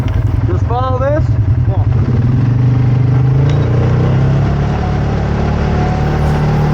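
A Polaris 570 ATV engine drones steadily at close range while riding along a back dirt road in the Michigan woods toward the trails, a loud continuous hum with slight throttle shifts and a faint squeal.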